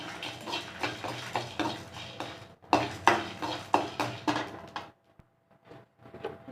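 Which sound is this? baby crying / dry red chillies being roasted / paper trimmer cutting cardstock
dry red chillies being roasted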